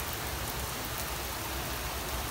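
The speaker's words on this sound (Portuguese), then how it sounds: "Se liga nessa chuva, velho." Heavy rain pours outdoors as a loud, dense, unbroken hiss that fills the whole stretch with no voices over it.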